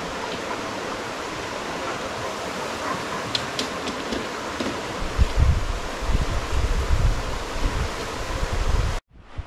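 River water rushing steadily right beside a riverside campsite in Tanay, Rizal, a continuous broadband wash that swells louder midway with some low rumbling, then cuts off abruptly at the end; no talking.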